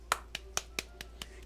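Six sharp hand claps spaced about a quarter second apart, quick and crisp over a quiet background, celebrating a knockout during a Pokémon VGC 2017 battle.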